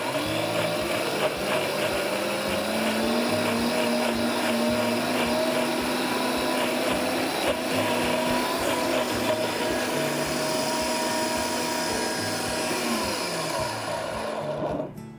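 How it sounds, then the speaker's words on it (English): A blender running on high speed, whirring ginger and garlic into a smooth sushi sauce, a loud, sustained motor roar that holds steady for the whole stretch before winding down at the very end, close by and with no talk. "I'm just gonna blend it up now on high speed because we've got that ginger"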